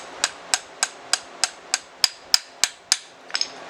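A steel hammer drives a roll pin into the shift selector of a 2003 Nissan Maxima: eleven sharp metallic strikes at an even, steady rhythm, close and loud, with a quick double tap at the end.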